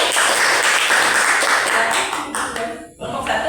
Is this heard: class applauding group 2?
yes